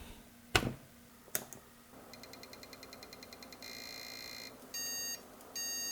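A Commodore 486 PC with a Cirrus Logic graphics card gives two short electronic POST beeps, preceded by a couple of sharp clicks and a run of faint rapid ticking; the beeps are clear and close against a quiet background.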